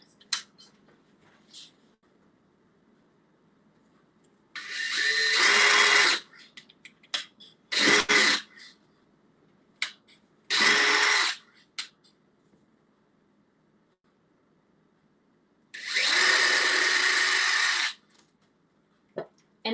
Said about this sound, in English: I'm gonna drill really shallow pilot holes.